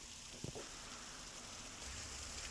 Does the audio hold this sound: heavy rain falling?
yes